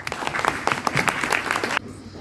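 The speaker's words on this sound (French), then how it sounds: "Evelyne Naoussi, qu'on va applaudir et qu'on va accueillir tout de suite." A burst of clapping from an audience at an eloquence contest final in a function hall, dense and lively, then cutting off abruptly into near silence.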